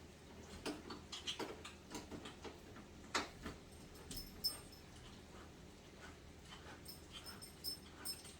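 A dog panting and moving nearby in a kitchen during cooking, with soft whimpers, claw taps and scattered thumps over quiet room tone.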